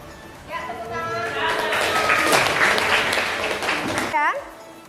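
Classroom applause from students after a presentation in a Grade 10 class, building from quiet to a lively clatter of clapping under a teacher's voice, then cutting off sharply near the end.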